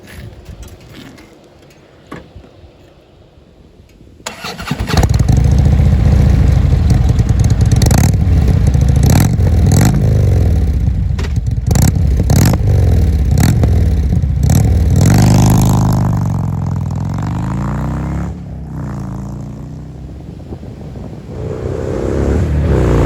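A Harley-Davidson motorcycle with high-flow FULLSAC exhaust baffles starts after a quiet stretch, then runs loud and close with repeated throttle blips and deep revving that rises and falls.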